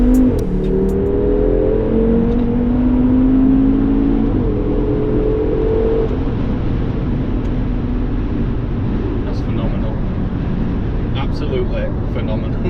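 An Audi RS3 8P on a dyno revs up with rising engine tones that climb over several seconds, then the engine note drops away into a loud, steady roar in the dyno cell.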